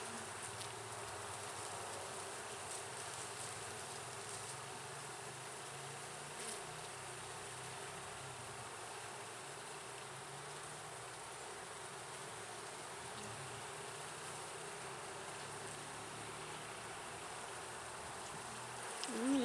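Honeybees buzz steadily around an opened nuc hive during an inspection, a continuous close drone that holds evenly throughout with no talking.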